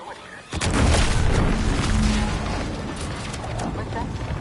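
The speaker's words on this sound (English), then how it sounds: "What's that? An explosion?" An explosion in the video game Outer Worlds 2 erupts as a sudden booming burst, followed by sustained loud rumbling and crackling debris.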